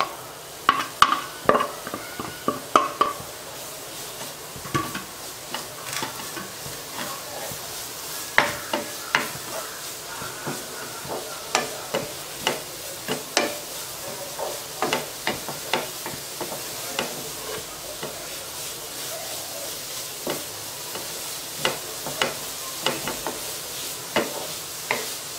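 Grated carrot frying in ghee in a pan for carrot holige, a steady soft sizzle punctuated by frequent rhythmic scrapes and taps of a spatula stirring throughout.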